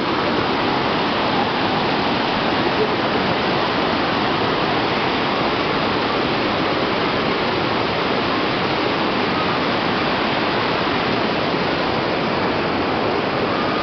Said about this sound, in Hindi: ये नदी है ये आप देख रहे हैं